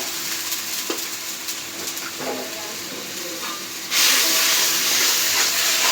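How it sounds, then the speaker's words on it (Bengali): Spice paste with ground coriander, salt and ginger-garlic paste fries steadily in a pan, a continuous sizzle with scattered stirring scrapes that jumps suddenly louder and hissier partway through, as if fresh moisture hit the hot oil. "মশলাটা কষে নেব"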